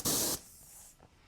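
Aerosol spray of candy paint laid onto a Kyosho Beetle RC car body, one loud steady hissing burst of about a third of a second, then quiet room noise with a faint tap or two.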